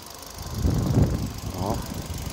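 A manual 2016 Hyundai i10 sedan with a 1.2-litre base engine idles close by in a smooth, fairly quiet low hum, with a brief rise in the middle.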